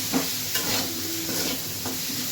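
Okra in a pan, seasoned with a pinch of salt and turmeric, being stirred: soft scraping strokes over a low, steady sizzle, close and fairly quiet, with no talking.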